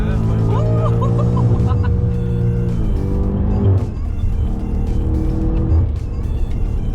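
Inside a BMW M8 Gran Coupe Competition on the road, the engine drone rises and falls through smooth gear changes, loud and close, with voices talking over it.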